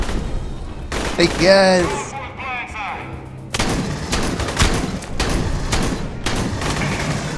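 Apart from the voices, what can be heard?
shotgun firing in the video game Aliens: Colonial Marines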